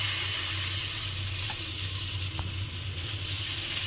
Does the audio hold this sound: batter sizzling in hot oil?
yes